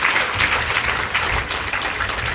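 An audience applauds at a Hindu religious discourse, the Shrimad Devi Bhagwat Katha, with dense, steady clapping from a large crowd that holds for the whole stretch without a break.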